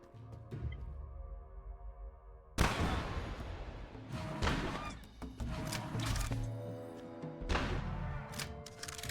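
A gunshot in the Path of Titans dinosaur game: a sudden loud crack after quiet ambience, followed by a string of thumping, crashing impacts and rumbling noise.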